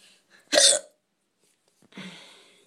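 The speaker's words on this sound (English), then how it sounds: "These are probably like some of the worst hiccups I've ever had." Two hiccups sound close and alone, a sharp loud one followed about a second and a half later by a softer, breathier second hiccup.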